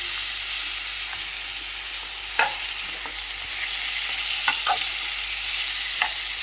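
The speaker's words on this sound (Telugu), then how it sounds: "దోసకాయలు వేసి తర్వాత 2 టమాటాలు ఉంటాయి, అది కూడా వేస్తున్నానండి." Cucumbers and tomatoes fry in oil in a pan, giving a steady broadband sizzle with a few sharp clinks of stirring against the pan, no voices present.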